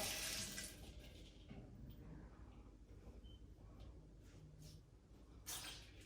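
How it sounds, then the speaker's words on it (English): Water drains and splashes from an unvented hot water cylinder during servicing. It is a soft, continuous trickle and gush with a brief louder hiss at the start and near the end. "Just let the water out."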